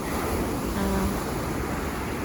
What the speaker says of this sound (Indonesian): debur ombak di tepi pantai